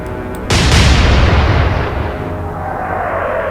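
A single heavy naval artillery salvo in the warship game Atlantic Fleet, Battle of the Atlantic, fired by a German ship: a loud, close boom that rolls into a long, slowly fading rumble, with no voices.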